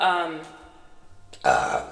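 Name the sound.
burp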